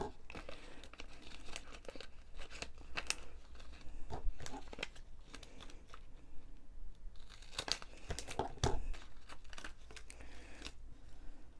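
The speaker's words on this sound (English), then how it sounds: "So I'm just going to cut some thin strips." Thin paper strips being cut for a handmade 5x7 moving-scene snowy hills card: close, irregular crinkles and snips with a few sharper rustling bursts, no talking.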